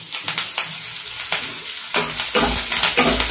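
Garlic and curry leaves dropped into hot oil in a pan for tamarind leaf chutney, close, loud sizzling that surges with each addition and crackles steadily.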